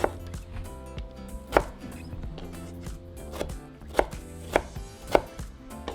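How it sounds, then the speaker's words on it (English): A knife chops tomatoes into small cubes on a cutting board, giving several sharp, irregular strikes over a soft, steady tonal background, with no talking. "I'm going to grab my tomatoes and do the same. We're going to cut them"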